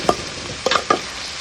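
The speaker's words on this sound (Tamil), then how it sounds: "இதை நல்லா வதக்கி விடுங்க." Ginger and garlic with spices being sautéed in a pan for capsicum rice: a few quick stirring scrapes and light sizzle in short bursts, close by, with no talking.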